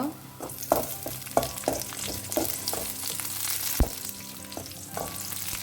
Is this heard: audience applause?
no